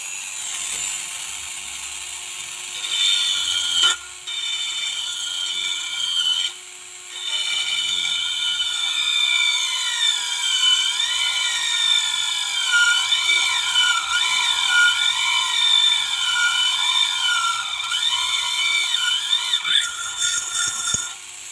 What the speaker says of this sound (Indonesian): sekarang kita coba untuk mengebor satu buah plat aluminium